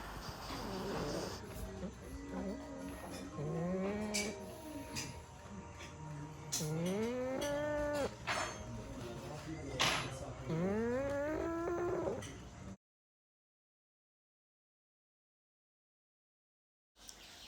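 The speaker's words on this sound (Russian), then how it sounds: "И вот как один из них храпит." Snorts, snuffles and wheezing rasps from a snoring pug come in repeated, rising, honking bursts, close and fairly loud, over faint background chatter, then the sound stops and silence follows.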